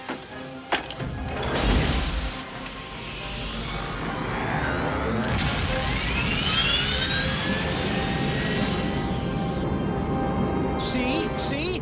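A cartoon spaceship engine fires up as it shoves a ball of ice through an Oort cloud, a loud sustained jet-like roar with rising whooshing sweeps that holds steady to the end after an opening thump.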